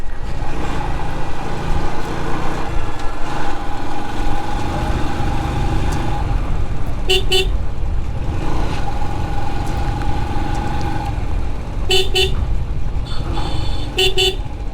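Car horns toot at road turns along a rural riverside road near Raipur. Three short, bright horn blasts sound over constant, fairly loud engine and road rumble.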